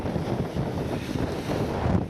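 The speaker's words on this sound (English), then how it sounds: "Bit windy at Spalding Cove." Steady gusting wind roars across the open shore at Spalding Cove near Port Lincoln, a continuous low rumble with buffeting on the microphone and faint wash of water beneath.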